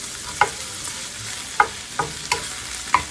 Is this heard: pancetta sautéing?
yes